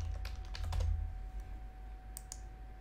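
Someone types a password on a computer keyboard with a quick run of soft, close key clicks. A few more isolated taps follow after a pause. Nobody speaks.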